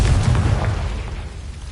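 A Confringo spell blast in Hogwarts Legacy, one loud, deep booming explosion that starts at full strength and rumbles away over under two seconds, with no voices.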